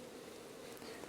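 Bees from a beehive on a farm hum in a steady, continuous buzz, fairly close and even in loudness, with no voices over it.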